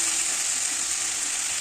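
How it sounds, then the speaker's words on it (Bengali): Steady, close sizzling of potato pieces frying with turmeric in a pan, a continuous bright hiss with faint scraping of the stirring spoon underneath. "আলুগুলোকে ভালোভাবে নাড়াচাড়া করে ভেজে নিতে হবে।"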